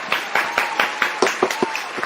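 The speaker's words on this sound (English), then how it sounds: "Let's give him a round of applause." A small audience gives a round of applause, a handful of distinct, fairly close claps in a loose rhythm over about two seconds, with some talk mixed underneath.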